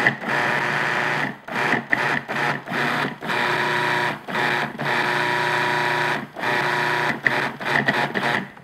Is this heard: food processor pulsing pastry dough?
yes